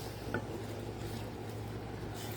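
Diced tomatoes being stirred into Spanish rice in a pan, a soft continuous scraping and squishing with a faint sizzle underneath, fairly quiet and steady throughout.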